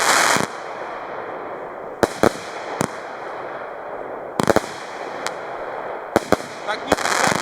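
Lidl consumer fireworks shoot high into the air and burst in sharp, scattered cracks and pops over a steady hiss. The bangs are fairly modest and come in irregular clusters.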